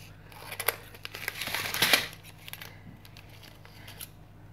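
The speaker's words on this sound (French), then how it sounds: "On va prendre la paire de ciseaux, découper le 1." Scissors snipping through a printed diamond painting sheet to cut out a number, a quick run of crisp, close, quiet cuts and paper crinkles, densest in the middle, with no talking.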